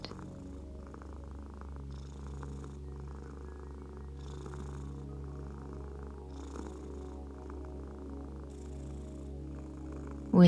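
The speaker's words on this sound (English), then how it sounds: "And as it purrs, imagine this sound as a healing wave of light" A cat purring close and steady, a low continuous rumbling drone with a gentle rhythmic pulse as it breathes in and out, soft and even throughout with no talking.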